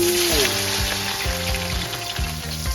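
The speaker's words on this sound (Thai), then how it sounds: "ตั้งกระทะติดไฟทอดปลาทูครับ" Mackerel sizzles steadily in oil in a pan with a dense, crackling hiss, while a low tonal hum and clunky kitchen noises sit underneath throughout.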